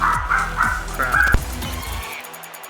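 An indoor dog barks at something outside, a quick run of four or five loud, close barks, then the room falls quiet.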